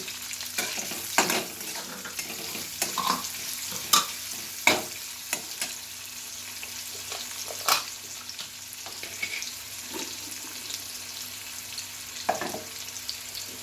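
Lightly browned onion and chopped tomato fry in a pan, a continuous soft sizzle broken by frequent scraping stirs and spatula taps, close by and with no talking.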